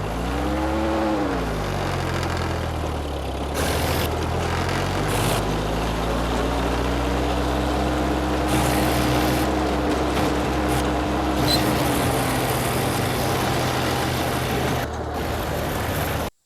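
Ford 8N and Deutz Allis 5220 tractors race flat out in high gear, their engines droning loud and steady throughout, with pitch sweeping up at the start and holding high under a rough, continuous roar.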